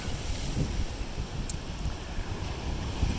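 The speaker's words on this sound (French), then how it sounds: "là vous avez vraiment l'océan Pacifique" Pacific Ocean waves surge around a coastal blowhole, a continuous churning roar of surf mixed with gusty wind buffeting the microphone, steady and close, with no voices.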